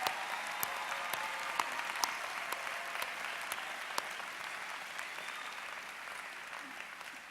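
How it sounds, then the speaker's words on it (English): A large audience applauds steadily at a 2013 university College of Education commencement ceremony, a dense, sustained wash of clapping from a crowd with a few sharper claps standing out, holding at an even level throughout. "One more round of applause, please."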